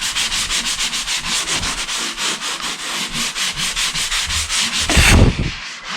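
A sponge rubbed over patch edges on a sheetrock wall, steady rhythmic back-and-forth scrubbing strokes, close and fairly loud, ending with a heavier brush and a pause.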